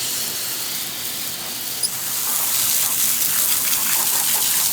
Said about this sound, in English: So let's hit it with a jet of water